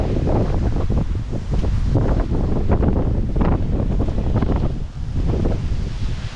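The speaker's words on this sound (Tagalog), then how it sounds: "Grabe yung storm." Strong gusting storm wind in Finland buffets the microphone in loud, continuous rushing bursts, roaring and uneven throughout.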